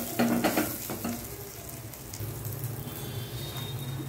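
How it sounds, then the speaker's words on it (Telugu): Fried tempering is stirred into a cabbage and moong dal curry in a pan, giving a steady sizzle with wet stirring and scraping throughout and a slight rise in the second half. "తాలింపు ఈ కర్రీ పట్టే విధంగా చక్కగా అంతా తిప్పేసేసుకోండి"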